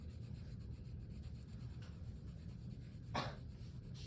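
Soft, steady pencil shading on paper, the side of the lead rubbed with even pressure in a continuous quiet scratch, with one brief louder stroke near the end.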